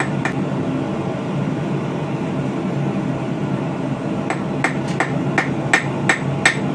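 A blacksmith hammers out and tapers the end of a forged steel tentacle on a sculpture: a steady background roar of the forge runs throughout, then a string of about eight sharp, ringing hammer blows comes in an irregular rhythm near the end.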